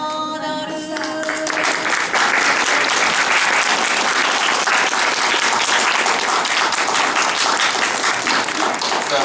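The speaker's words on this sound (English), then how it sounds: "let's have a round of applause for our reader as well" An audience claps steadily at a karuta demonstration, a dense, loud wash of applause that starts just after a brief tone and continues evenly to the end.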